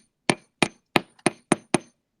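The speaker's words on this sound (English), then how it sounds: "I just kind of hammer it a little bit just to give it some texture" Six sharp, evenly spaced hammer strikes on a wire-wrapped loop resting on a block, made to texture beading jewelry wire; close, crisp metallic taps with quick decay and no talking.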